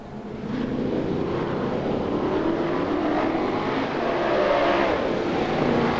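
Race cars powered by 350 cubic inch Chevrolet engines roar around a slippery oval track, a continuous loud engine drone that swells and fades slightly as they pass.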